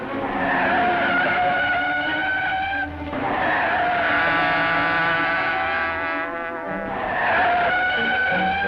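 A car's tires squeal in three long skids as it swerves around corners in a 1940 Green Hornet radio drama, loud and close over a rumbling engine, with no voices.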